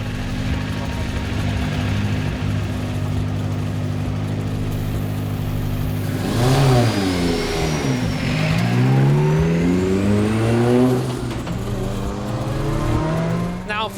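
A 600 BHP Mazda MX5 race car engine on circuit, loud and steady, then revving up and down through several pitch sweeps as it accelerates and shifts, with the engine dominant throughout.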